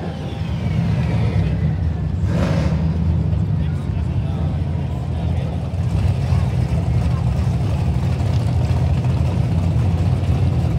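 A drag truck's engine roars loud and steady during a hard launch at a drag strip, building power with a continuous heavy drone that swells after a brief dip.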